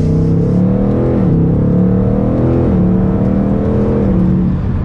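Ford Mustang Mach 1 accelerating from second gear, the engine note climbing loud and close with quick gear shifts marked by brief pitch drops, heard alone.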